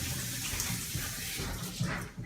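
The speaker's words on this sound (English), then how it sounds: "I'll wash my hands real quick." Water runs steadily from a kitchen tap while hands are washed, a soft continuous splashing rush with faint irregular spatters, fairly quiet and alone.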